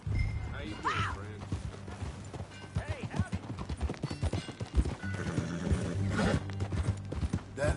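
Horse hooves clip-clopping at a riding pace in Red Dead Redemption 2, a steady rhythmic beat close by, with a whinny, running under characters talking.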